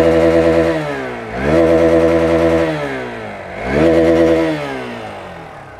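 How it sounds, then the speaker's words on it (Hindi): A Hero Xpulse 200 4V Pro motorcycle engine revs up twice in rising, throaty exhaust bursts, settling back to a rough idle between them, loud and close. "एक बार इसका एग्जॉस्ट नोट भी सुन लेते हैं। आइए सुनाता हूँ।"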